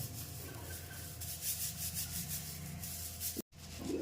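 Boiled chickpeas are rubbed inside a bag to loosen their skins, making a soft, continuous scrubbing rustle up close, broken by one brief gap near the end.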